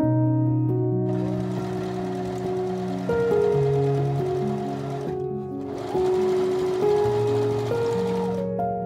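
A sewing machine stitches a sleeve seam on a 1910s-style blouse, running in two close, steady bursts with a short pause between them and no talking.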